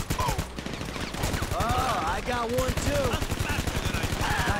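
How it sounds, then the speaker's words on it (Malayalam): Rapid bursts of automatic gunfire from the GTA 5 video game crackle steadily throughout, with sharp repeated shots layered over game effects and someone talking. "മൈക്കിളത്തിൽ നേരെ കയറി വെടിവെക്കേ ഉണ്ട്."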